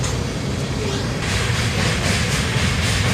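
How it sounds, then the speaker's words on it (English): A long, heavy CSX freight train with an ES44AC distributed power unit rolls steadily past, a continuous loud rumble and hiss of wagons with faint rhythmic clatter, no voices. "Soon enough, the end of the train would go by."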